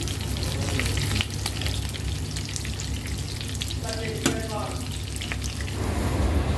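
Chital fish balls fry in hot oil with a continuous loud sizzle and bubbling, accompanied by occasional stirring clinks and a low steady hum underneath, without any talking.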